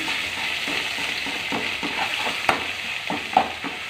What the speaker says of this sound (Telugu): అల్లం వెల్లుల్లి పేస్ట్ నూనెలో బాగా కలిసేలాగా కలిపేసేయండి